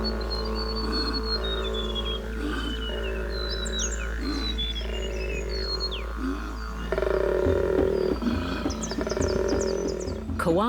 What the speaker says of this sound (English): Koala males make this reverberating noise by inhaling and exhaling at the same time.